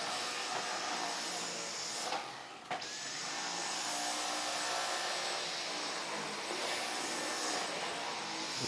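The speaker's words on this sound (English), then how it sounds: "Let's see if the ground in dirt can be picked up by the vacuum cleaner." A steady, loud whine of a Dyson V10 stick vacuum running continuously over carpet, picking up spilled soil on its lowest setting, with a brief dip in pitch partway through.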